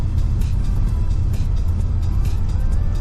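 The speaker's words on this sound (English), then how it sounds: "Just driving down the road." A car drives along a foggy road, its steady low engine and tyre rumble loud and continuous from the cabin with no pauses or talk.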